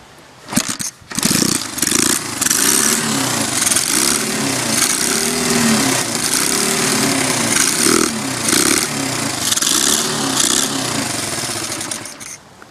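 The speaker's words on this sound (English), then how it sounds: "She's running a few minutes ago, so I'm sure it'll start up now." A Honda XR100 motorcycle with a freshly cleaned carburetor and choke on cranks briefly, catches and runs, its single-cylinder engine buzzing loud and close with uneven revving throughout, no voices.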